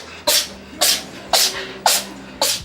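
A cat sneezing over and over, five sharp, close sneezes evenly spaced about half a second apart, with no talk.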